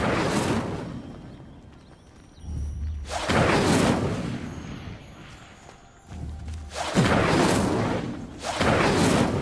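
Fire spells cast in Hogwarts Legacy, several whooshing blasts with booming low thumps arriving in bursts, loud and close, separated by quieter stretches of game ambience.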